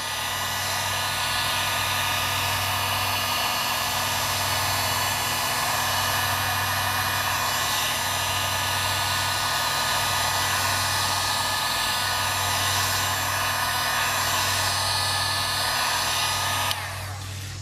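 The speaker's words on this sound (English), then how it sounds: "We want to take the heat gun, blow some hot air on it." A heat gun blows hot air steadily onto a car headlight, a loud, continuous whooshing drone that holds for about seventeen seconds before cutting off.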